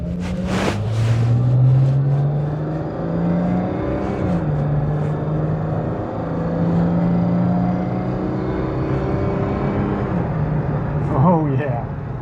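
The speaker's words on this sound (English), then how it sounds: "Better test the performance of this engine over the dam just to be sure that it's still working." A 100-horsepower car engine drones through a test drive, the pitch climbing and settling as it revs and shifts. Voices talk over the engine noise all the way through.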